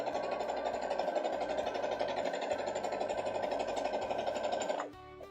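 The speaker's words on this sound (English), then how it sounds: "Just go ahead and sew that into place." A sewing machine fitted with a Teflon foot stitches clear vinyl for a drawstring bag, a steady mid-pitched whir running continuously for several seconds before stopping abruptly near the end.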